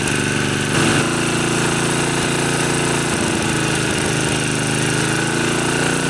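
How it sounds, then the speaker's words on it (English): A jet engine is revved while it is being adjusted, giving a loud, steady, close roar with a constant hum and a brief surge near the first second, with no voices. "I want to rev up the engine and to adjust it."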